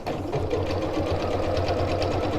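A sewing machine runs steadily, stitching a pinned seam on a reversible tote bag with a steady, close motor hum and a fast needle rhythm, no voices.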